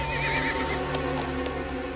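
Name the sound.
horse neighing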